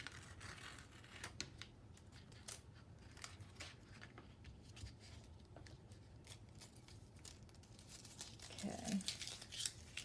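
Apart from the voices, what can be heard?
tape being peeled off a watercolor painting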